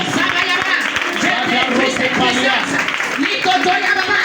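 Congregation clapping and acclaiming during a prayer session, a dense, steady wash of hand claps and voiced acclamation that continues without pause, close and loud, with voices mixed throughout.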